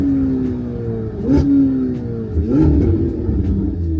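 A sports car engine revs sharply twice during downshifts, loud and close, with rising whines and a crisp burbling exhaust between blips.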